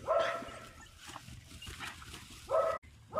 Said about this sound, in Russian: Скулит, зовет, но нечего дать.